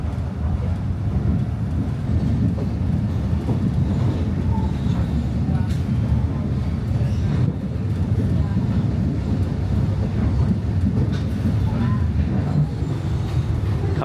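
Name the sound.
Sabah State Railway train rumbling along meter gauge tracks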